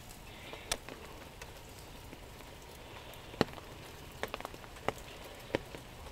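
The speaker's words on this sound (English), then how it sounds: "we're right in the middle of a downpour" Heavy rain downpour pattering steadily on surfaces outdoors, with scattered louder drips and taps standing out over a constant faint hiss.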